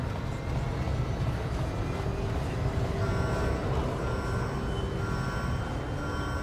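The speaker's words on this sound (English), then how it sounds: "Seems like an alarm of some sort." An alarm in Star Wars: Knights of the Old Republic (2003) beeps with steady tonal pulses over a low, constant rumble. The beeps start partway through and repeat evenly.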